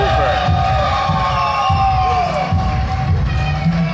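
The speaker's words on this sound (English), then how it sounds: "The crowd is getting wild now as the last few seconds" Fight crowd at a New England's Future 9 combat event roars and cheers wildly as the bout ends, a loud dense wall of shouting and whoops sustained throughout, with a commentator's voice faintly mixed in.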